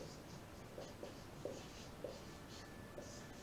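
Chalk or a pen writes on a board during a Sanskrit grammar lesson, giving a series of soft, evenly spaced taps and scratches, faint and close, with no talking.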